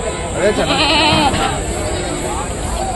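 Goats bleat amid the bustle of a village livestock market selling goats and sheep, with a few wavering cries rising over crowd noise while people talk nearby.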